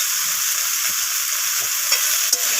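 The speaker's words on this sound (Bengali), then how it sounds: "তো সমস্ত কিছু মশলা আমি নাড়াচাড়া করে কষিয়ে নিচ্ছি" Ground spices, including turmeric, red chilli powder and cumin, sizzle and fry in a pan while being stirred, a steady close crackling hiss with a couple of small scraping knocks from the spoon and no speech.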